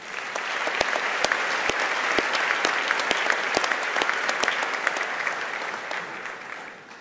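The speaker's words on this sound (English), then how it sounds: "Let's give them a round of applause, please" A high school graduation audience applauds in a broad, sustained wash of clapping, with sharp individual claps standing out near the front before the sound gradually thins toward the end.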